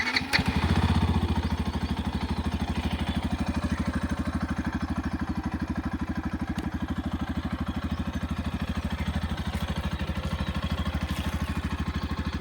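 A Yamaha FZS-V4 motorcycle fires up with a brief starter burst, then settles into a steady, even idle with a fast regular thump, close and unaccompanied by talk.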